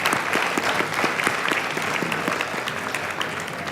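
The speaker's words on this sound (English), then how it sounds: "And a round of applause, please," A room of attendees applauding three panelists after a panel discussion on Asia, loud, brisk clapping close by, dense and sustained with individual claps popping out of the mix.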